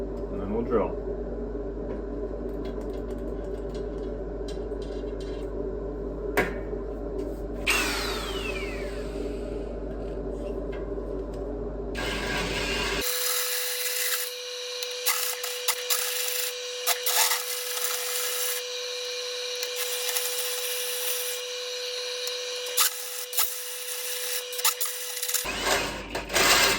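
A hole saw on a drill cuts half-moon notches into steel angle iron, first giving a quieter grinding whine, then a loud, harsh, continuous scraping drone close by.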